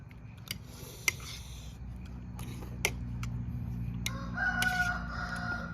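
A rooster crows in an outdoor kitchen setting in Shan State, its drawn-out call rising in the latter half over a steady low background hum, with a few sharp clicks and knocks scattered throughout.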